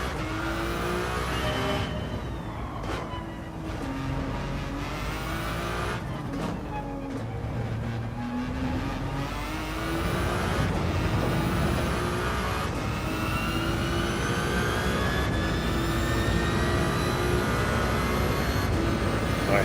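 A Ferrari engine in Gran Turismo 7 revs and accelerates steadily, its pitch rising and falling through gear changes as it drones loudly and continuously, with no talk over it.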